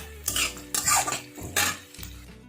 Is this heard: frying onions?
yes